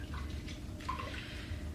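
Chicken broth made from chicken base mixed with water pours into a cooking pot in a short, continuous, quiet splashing stream with no talk.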